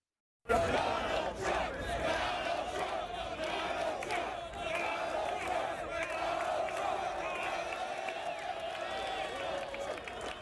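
A large outdoor golf-tournament crowd at a U.S.–Europe team event chants loudly and steadily in unison for about ten seconds, a dense roar of many voices sustained throughout.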